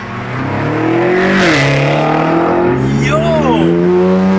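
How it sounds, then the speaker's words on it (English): A GT3 sports car engine revs loudly nearby, rising and falling in pitch and holding a strong, steady roar, while people talk excitedly over it. "Oh, I hear the GT3!"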